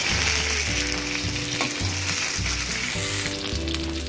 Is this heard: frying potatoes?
yes